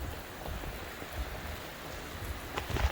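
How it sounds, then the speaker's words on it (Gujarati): Heavy rain pours down steadily in a Gujarati village, a dense hiss with scattered drops pattering on surfaces, loud and continuous throughout with no voices. "બાકી વરસાદ પડી રહ્યો ફૂલે ફૂલ"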